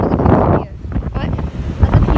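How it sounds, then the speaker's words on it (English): Strong gusts buffet the microphone beside a rushing, flooded river on Maui, a loud low roar that rises and falls, with voices talking underneath. "it's so windy"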